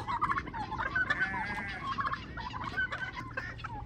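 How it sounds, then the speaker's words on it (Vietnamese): Turkeys gobble on a farm in the United States, several bursts of rapid warbling calls that rise and fall over about four seconds, close and fairly loud amid other fowl noise. "Con gà Tây đó hả?"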